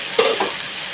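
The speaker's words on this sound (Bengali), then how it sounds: "এটাকে সুন্দরভাবে লাল লাল করে একটু কষানোভাবে ভেজে নিতে হবে।" Spice masala for a fish curry fries and is stirred in a hot pan, giving a short burst of sizzle and scraping strokes that rise briefly and then fade to a low, steady hiss, with nobody talking.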